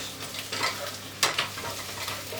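A stock cube is stirred into sizzling vegetables in a pan. A spoon scrapes and clinks over a steady frying hiss, with one sharper scrape partway through.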